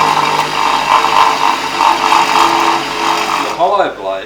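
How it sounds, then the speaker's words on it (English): A Wasp sander attachment on a drill press sharpening a hollow plane blade gives a steady, loud whirring grind that continues for several seconds, then winds down with a falling whine at the end. "the tool we use, which we find the most efficient to do the sharpening on these blades, is what we call a Wasp sander, which is an attachment to your drill press"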